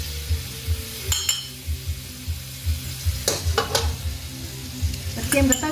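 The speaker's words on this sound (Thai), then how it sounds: "เคี่ยวผัด เอาไฟอ่อนๆนะ อย่าให้กระเทียมไหม้เดี๋ยวมันเหม็น" Garlic and fermented soybean paste stir-frying over low heat, a steady soft sizzle with a low hum underneath and a few sharp clinks of a utensil against the pan, close by, without any talking.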